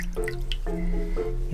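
Water drips and splashes during a kitten's shampoo, a few quick wet plinks over a brief span, with a faint tonal hum in the background.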